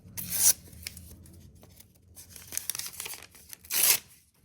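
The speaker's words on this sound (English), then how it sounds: "tearing them into small strips" Paper is torn into small strips, with two loud, close ripping bursts near the start and end and quieter rustling and handling of the paper in between.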